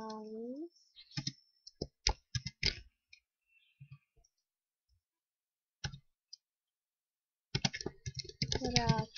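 Computer keyboard typing in irregular bursts of clicking keystrokes, close and crisp, with quiet gaps between, during Minecraft play; someone talks briefly at the start and again near the end.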